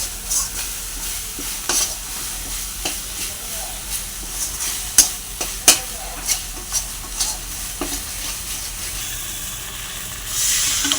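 Pomfret fish in a mustard and poppy seed sauce sizzles steadily in a pan while a spatula stirs it, with sharp intermittent scrapes and clacks over the frying hiss.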